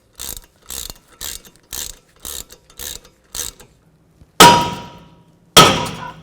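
A ratchet wrench snugs bolts on the front brake rotor of a 2009-15 Toyota Prius: seven quick, evenly spaced ratcheting bursts, close and clear, then two louder metallic clanks that ring out and fade.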